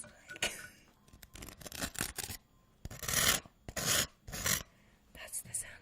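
Vegemite is scraped and spread up close in short, irregular rasping strokes, with soft rubbing and scratching bursts separated by quiet pauses.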